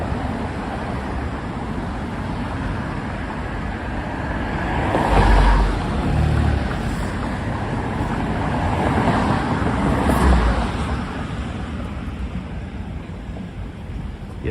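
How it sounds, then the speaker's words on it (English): Traffic on the West Side Highway in Manhattan on a Saturday night, a continuous wash of road noise with two louder vehicle swells passing nearby, plus some wind buffeting; no voices. "Well, this is the highway. This is West Side Highway."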